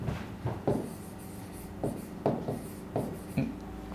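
Marker or chalk writing on a board during an English class, a series of short rhythmic strokes and taps, close and fairly quiet, with no talking.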